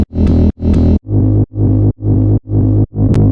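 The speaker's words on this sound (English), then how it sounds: "I took the bass from the intro and I put it through the half repeat on gross beat" A heavy, distorted bass put through a Gross Beat half-speed repeat effect stutters in seven evenly spaced chunks, each cut off abruptly, giving a choppy half-speed repeating rhythm.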